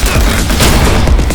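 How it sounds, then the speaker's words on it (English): A loud, dense burst of explosion and gunfire from the video game I Am Your Beast, a continuous booming barrage filling the whole moment with rumbling low end. "Explosion nearby."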